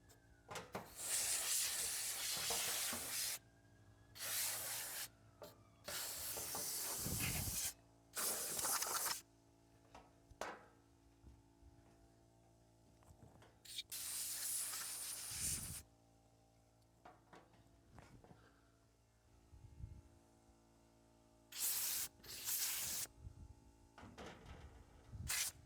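Compressed air blasts onto the outdoor coils of a Mr Cool 24K BTU mini split in about seven loud, hissing bursts of one to three seconds each, with quieter mechanical clicks and rattles between them.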